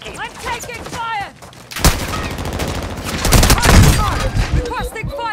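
Gunfire in Warzone 2.0 rattles in bursts and sharp single shots, loud and close, with game voices and chatter mixed in between the volleys.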